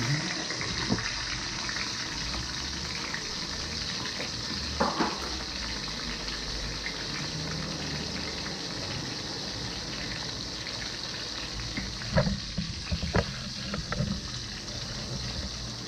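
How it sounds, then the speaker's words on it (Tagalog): Fish sizzles in hot oil in a pan, with a steady close hiss and crackle and a few sharper pops and spatters along the way, no voices heard. "At ilalagay na rin natin yung isda natin guys yan sa ipiprito natin."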